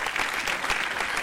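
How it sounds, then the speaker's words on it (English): An audience gives a round of applause for a guest at a workplace talk; dense, even clapping from many hands throughout, at moderate level. "Let's give a round of applause for our guest."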